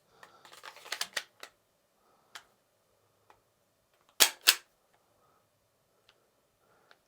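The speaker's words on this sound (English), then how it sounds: "if you want to shoot it just like that, slide and move back" A toy Glock blowback pistol clacks as its plastic slide cycles and ejects, with a flurry of light clicks at first, then isolated ticks and two sharp, louder snaps close together a few seconds later.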